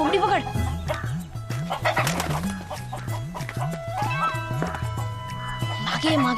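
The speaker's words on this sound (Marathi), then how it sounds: "अरे कोंबडी पकड" Chickens cluck repeatedly in a rhythmic series on a village farm in a Marathi film scene, loud and close, with people talking and shouting over the birds throughout.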